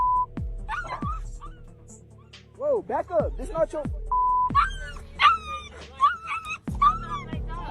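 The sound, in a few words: dog whimpering and yipping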